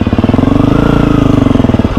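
A motorcycle engine runs loud and steady while riding, with a fast, even pulsing throb and no talking.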